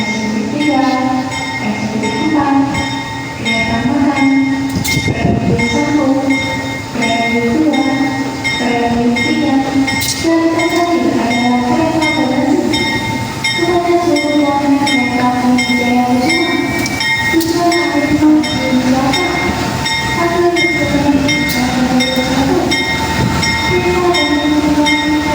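A passenger train hauled by a CC203 diesel locomotive rumbles past nearby in Indonesia, its engine droning with shifting tonal whines and clanks of rolling cars throughout.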